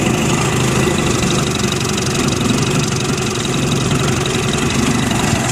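A carbureted engine idles loudly and steadily up close, running rough and labouring as if close to stalling, with no voices over it.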